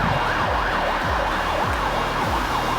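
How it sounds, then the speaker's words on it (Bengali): An ambulance siren wails continuously and loudly, its pitch sweeping up and down in a steady repeating cycle, with a low vehicle rumble underneath and no voices. "অ্যাম্বুলেন্স আসে"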